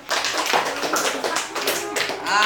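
Children clapping their hands together in a classroom during an English lesson, a brisk burst of fairly loud, close, irregular claps lasting a couple of seconds, with some faint voices mixed in.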